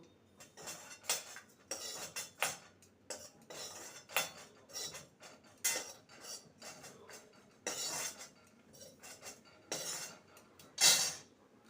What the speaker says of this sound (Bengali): এটা ভাজা হয়ে গেছে নামিয়ে নেব